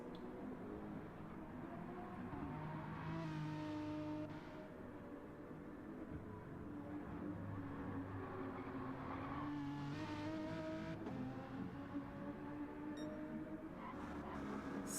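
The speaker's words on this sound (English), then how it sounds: "Race car sounds." Racing car engines in a racing video game, at Daytona, rising and falling in pitch as they accelerate and shift, with a continuous background roar, fairly faint.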